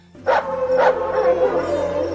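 Dogs barking in the film Willow, two sharp nearby barks followed by a drawn-out howling whine, loud and clear with no talk.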